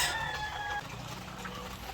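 Hens in a poultry pen make a brief tonal cluck up front, followed by soft scattered clucking over a low, busy background.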